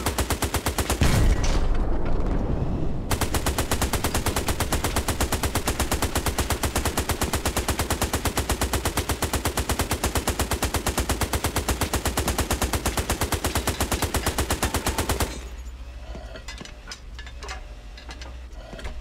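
Machine-gun fire from a tank turret in the World War II game Hell Let Loose hammers in a long, rapid, steady stream for about twelve seconds, loud and close, then cuts to quieter background rumble.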